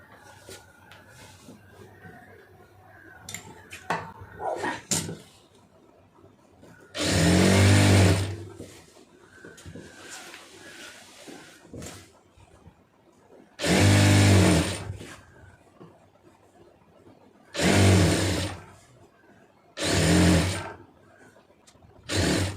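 A sewing machine stitches a saree fall in a tailoring lesson. It runs in four or five loud bursts of steady whirring, each a few seconds long, with quieter handling sounds and light tapping in between.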